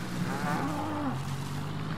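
A cow in the Nintendo Labo Vehicle Kit game gives one loud, drawn-out moo, close and clear over a low steady hum.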